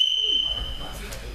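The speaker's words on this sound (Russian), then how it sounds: "По свистку начинаем." A referee's whistle starts a bout at a school wrestling practice: one sharp, steady high tone sounds for about half a second, then fades under room noise, with no talking.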